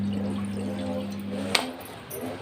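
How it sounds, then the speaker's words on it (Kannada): About a cup of water is poured into ragi flour in a home kitchen, a soft steady pour followed by a brief clink near the end, heard up close. "ಒಂದು ಕಪ್ ಆಗುವಷ್ಟು ನೀರು ಹಾಕ್ಕೊಳ್ತಾ ಇದ್ದೇನೆ"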